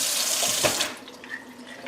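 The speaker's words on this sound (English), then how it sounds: "We're just going to give them a drink of water" Tap water gushes steadily into a sprouting jar of mung beans for about a second, then tapers off to a quieter trickle and faint splashing.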